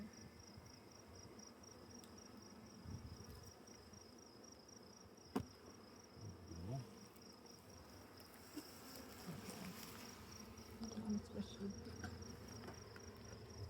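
Steady buzzing of many honeybees close by at the hive, a continuous low hum with a faint high whine and occasional soft taps.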